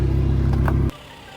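An Audi R8 V10 supercar engine holds a deep, loud rumble nearby, then cuts off abruptly after about a second, leaving quiet room tone.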